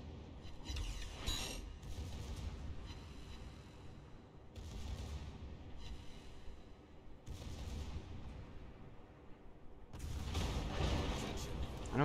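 Naval gunfire striking an enemy ship in a warship video game, heavy bursts of booming, crackling impacts arriving in several waves with short lulls between, loud and dense, with no speech over it.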